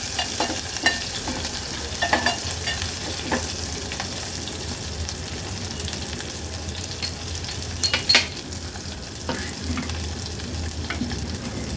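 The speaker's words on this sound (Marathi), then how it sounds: "थोडीशी फोडणी ही तुपावर आपल्याला परतून घ्यायची आहे." Curry leaves, green chillies, garlic cloves and dried red chillies sizzle and fry in hot ghee for a spice tempering, a steady close crackle broken by clinks and scrapes of a spoon stirring the pan.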